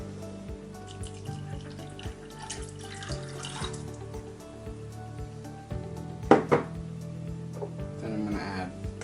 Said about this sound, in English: Then I'm going to add the water.